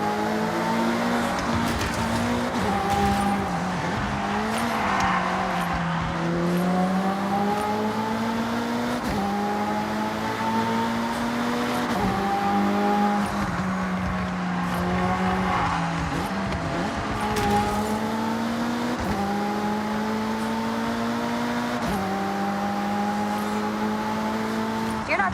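Engines of cars racing in Forza Horizon drone close and continuous, pitch rising and falling as gears shift, with tire squeal and rival cars passing through a long stretch.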